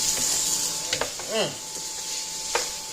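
Vegetables and tomato paste sauté in a pot for a Southern-style beef stew, a steady close sizzle with a few brief stirring scrapes and clicks.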